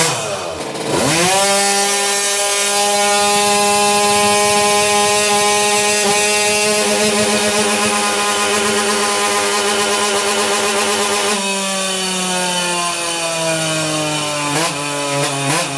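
A tuned Hercules Prima GT moped engine screaming at high revs on a dynamometer, a sustained loud buzzing whine that holds near its limit for many seconds, then its pitch drops, with a brief blip near the end.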